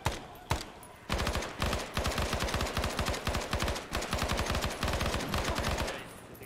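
Rapid bursts of Stoner commando machine gun fire in a video game crackle in several long strings, each a fast rattle of close shots separated by brief pauses.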